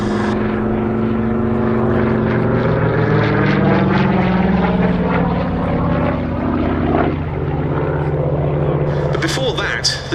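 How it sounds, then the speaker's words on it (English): Curtiss Hawk 75A1 propeller fighter, an ex-French Armée de l'Air airframe, flying at Duxford's Battle of Britain airshow, gives a loud sustained piston-engine drone with shifting pitch as it passes, a voice talking over it. "this is a genuine ex-French Armée de l'Air Hawk 75A1 that flew during the Battle of France"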